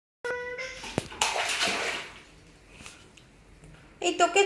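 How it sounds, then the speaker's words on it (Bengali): A child splashes and sloshes water in a tub, with wet slaps and swishes that come in bursts, mixed with a voice and an adult speaking nearby. "জলটা কেন ঘাঁটছো তুমি?"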